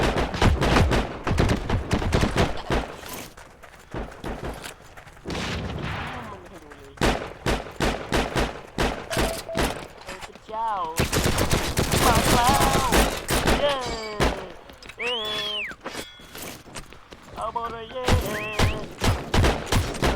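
Gunfire in the World War II shooter Heroes & Generals rattles in rapid bursts and single shots, loud and near, while a player talks over it throughout.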